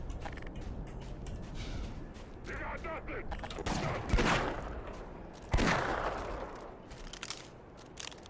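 Bursts of gunfire in the Black Mesa video game, scattered shots and clattering mechanisms building to two sharp loud blasts, heard at moderate distance with faint background game noise.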